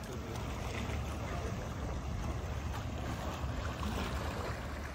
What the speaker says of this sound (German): hier legt gleich ein Schiff ab, nämlich die Schwaben. Die fährt Richtung Deutschland.